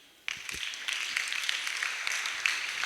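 A congregation at a church service applauds together, a steady dense patter of many hands clapping that starts suddenly and keeps going without a break, loud and close throughout.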